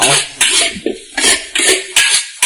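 Shredded potato and pork stir-fried in a wok with scallions and garlic: a spatula scrapes and clanks against the metal in about six quick rhythmic strokes, close and crisp.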